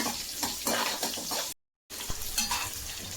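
Onion added to a fish curry in a pan, giving a soft wet sizzle and stirring noise at close range, broken by a short silent gap partway through.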